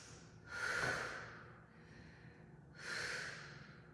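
Two slow, audible exhales through the nose or mouth during a stretching exercise, each a soft breathy rush lasting about a second, spaced a couple of seconds apart in a quiet room.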